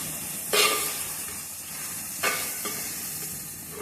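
Turmeric and chili powder frying in a clay pot for chicken curry, a close, steady sizzle broken by two louder scraping stirs.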